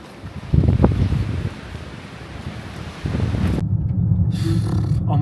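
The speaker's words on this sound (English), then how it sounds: "Careful, it's windy." Wind blowing hard outdoors buffets the microphone in loud, rumbling gusts, rising and falling in bursts with a roaring low-frequency blast and hiss, and no voices.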